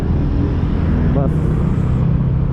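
An Adi Putra tourist bus passes through busy city traffic in Bandung, its engine rumble steady and loud beneath constant road noise, with voices talking over it.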